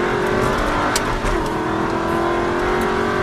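An Aston Martin V8 Vantage accelerates hard on a track lap, its engine note climbing steadily and loudly from close by with a steady rising drone.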